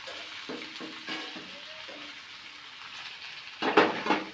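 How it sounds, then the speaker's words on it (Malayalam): Onion being stirred and fried in a pan gives a soft, steady sizzle with scraping stir strokes, then a louder burst of crackling frying near the end. "നിങ്ങൾ ഉള്ളി ആഡ് ചെയ്ത് ജസ്റ്റ് ഇളക്കി കൊടുക്കാൻ സ്റ്റാർട്ട് ചെയ്യാവുന്നതാണ്."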